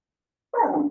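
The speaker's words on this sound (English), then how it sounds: "is the other dog barking at her now?" A dog gives a single short bark, close and fairly loud, after half a second of silence.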